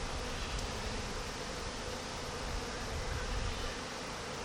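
Italian honey bees buzz at a backyard hive, a dense, continuous droning hum that fills the scene, close and steady without pause.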